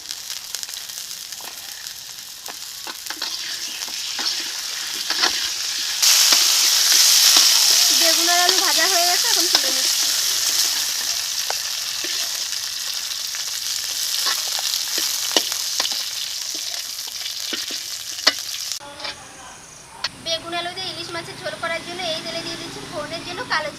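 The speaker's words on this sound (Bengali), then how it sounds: "এখন বেগুন দিয়ে দিচ্ছি বেগুনটাকে বেশি ভাজবো না" Eggplant frying in hot oil for a hilsa fish curry with potatoes, a steady loud sizzle and crackle running throughout, with occasional stirring and a voice talking over parts of it.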